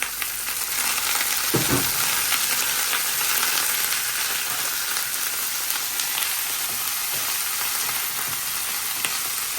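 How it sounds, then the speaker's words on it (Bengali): Vegetables tipped onto fried onions in a hot pan give a loud, steady sizzle with occasional stirring scrapes, and one knock near the start. "এখন এই যে পেঁয়াজটা ভাজা হয়েছে এখন সবজিটাও দিয়ে দিই"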